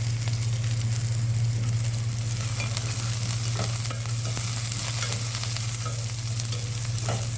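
Curry leaves and dry red chillies frying in hot oil for a potato curry, a loud, continuous close-up sizzle with faint crackles and occasional stirring.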